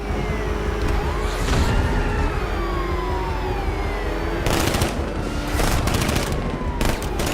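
Sustained automatic gunfire from the video game Batman: Arkham Knight rattles through a road chase in dense, loud volleys, with sharper bursts breaking out near the end over a constant engine-like roar.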